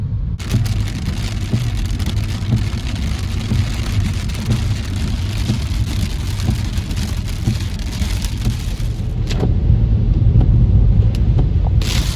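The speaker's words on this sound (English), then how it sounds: "And a little bit of rain." Light rain patters on a moving car during a drive, a steady broadband hiss over low road rumble and engine drone, growing slightly louder toward the end with no talking.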